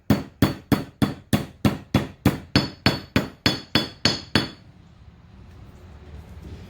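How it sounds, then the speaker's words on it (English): A hammer drives a wheel bearing into a utility trailer hub with about a dozen sharp, ringing metallic strikes in a steady rhythm, followed by quiet. "hit it at an angle a little bit so you don't damage this edge"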